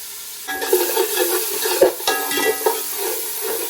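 Small onions tossed into hot oil for Thalappakatti mutton biryani give a steady close sizzle, with a few clinks and scrapes of stirring against the pan.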